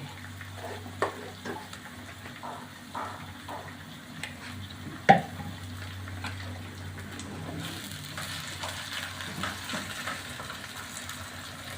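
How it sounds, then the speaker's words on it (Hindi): Cumin seeds go into a pan with tomatoes for a spinach and potato dish, giving a soft, steady sizzle with a few knocks and clinks of a utensil, one sharper tap partway through. "हाफ़ टी स्पून में इसमें ज़ीरा डालूँगी।"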